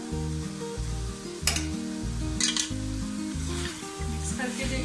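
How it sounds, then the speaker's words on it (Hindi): Chicken fries in a pan for spicy pasta. Bursts of sizzling and stirring rise over a steady rhythmic musical backing, with a few louder crackles spread across the clip. "इसको फ्राई करें अच्छी तरह से, मिक्स कर लें इसको"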